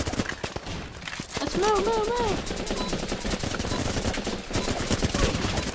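Heavy gunfire in Running with Rifles, a dense, continuous rattle of rapid shots with overlapping bursts, while voices talk over the battle.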